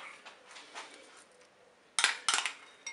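Farfalle pasta gets stirred in a Cookeo pot: soft scraping at first, then a few sharp, close clinks of a spoon against the pot.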